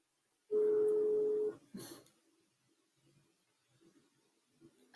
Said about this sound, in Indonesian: Oke, kita coba telepon ya guys ya